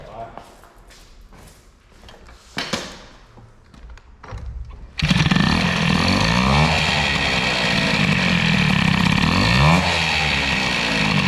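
A Peugeot 103 moped with an Airsal 65 cylinder and air-cooled hybrid setup gets pedalled and clunked for a few seconds. It then starts abruptly into a loud, close, buzzing two-stroke that revs up and down repeatedly, with some talk beforehand.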